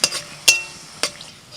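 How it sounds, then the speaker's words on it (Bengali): Dried red chillies fry in hot oil during traditional Bengali home cooking, with a few sharp stirring clinks against the pan, about three distinct strokes, over a faint background sizzle. "এবার কয়েকটা শুকনো লঙ্কা একটু তেলের মধ্যে ভেজে নেব"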